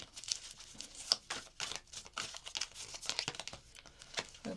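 Tarot cards being pulled and shuffled up close, a busy run of crisp papery crinkles, slaps and riffles in quick irregular bursts, with no talking.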